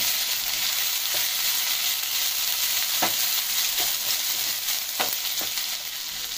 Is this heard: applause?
no